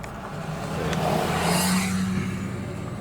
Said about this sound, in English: here comes a car